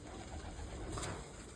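A pigeon with its wings tied gives a faint, low coo, barely rising above a steady background hiss.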